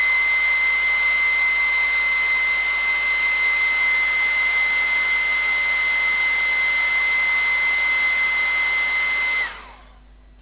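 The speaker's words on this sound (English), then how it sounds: "So I'm going to give him a quick blast with a hairdryer, so just watch your ears." A hairdryer blows on a painting with a loud, steady roar and a high whine for about nine seconds, then switches off and winds down into near silence.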